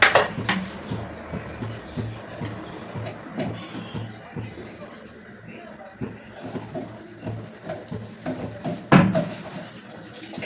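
Besan batter is mixed with water by hand in a bowl, giving soft wet squelching and stirring with occasional clinks against the bowl, close and moderate, beneath someone talking.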